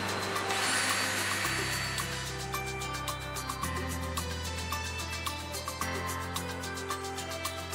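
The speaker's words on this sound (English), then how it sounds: "you want to cut off the remaining threads that you got sticking out from your nut" A power tool whines loudly and continuously, its pitch stepping down a few times as it cuts off protruding bolt threads beside a nut on a stair cable railing, with no talking.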